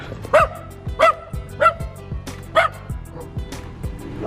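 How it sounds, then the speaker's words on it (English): A dog out on a street in Mexico barks about five times in a fairly even rhythm, sharp and close, over faint background noise. "this is someone's dog. Someone's dog needs to get back inside."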